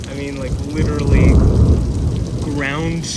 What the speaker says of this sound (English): ground-shaking thunder and an insane lightning strike